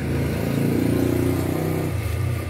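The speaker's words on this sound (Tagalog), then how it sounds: "maririnig nyo yung motor after 3 to 5 seconds, naka-start na siya na maayos" A steady mechanical hum from an industrial sewing machine motor, with a low pulsing drone, running continuously and fairly loud with no talking.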